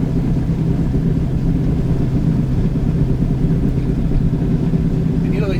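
The 7.3 liter Powerstroke diesel in a heavy Ford Super Duty truck rated at 15,000 pounds GVWR, running with a constant low rumble that stays loud and even, up close.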